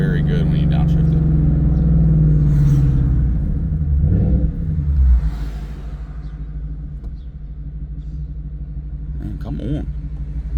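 A Ford Mustang Dark Horse with a Corsa Xtreme exhaust drones loudly, then blips and rumbles deeply as it downshifts, settling to a lower burble, with a voice talking over it.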